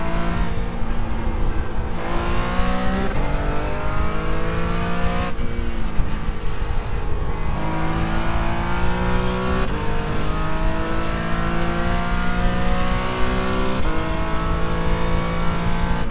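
A Mazda race car in the iRacing sim at Spa-Francorchamps screams continuously at high revs, with repeated upshifts and downshifts marking sharp pitch drops and climbs, loud and close throughout, no voices.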